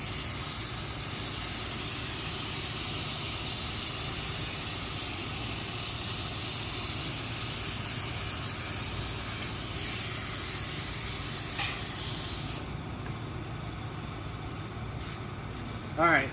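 Activator being sprayed onto hydro-dip film in a steady, close hiss that lasts about twelve seconds and then cuts off, leaving quiet room noise and a brief knock at the end.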